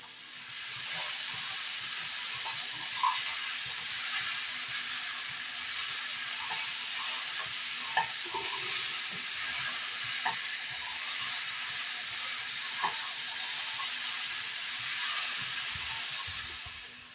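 Chickpea masala with boiled potatoes sautéing in a pan, a long even hiss and sizzle with occasional soft knocks and scrapes of a spoon stirring.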